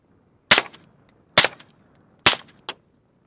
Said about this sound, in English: Kev, try it semi-auto in the suppressed configuration.